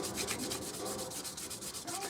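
Orgonite being hand-sanded with 600-grit sandpaper produces a quiet, close, continuous scratchy rubbing in quick back-and-forth strokes, with no voices.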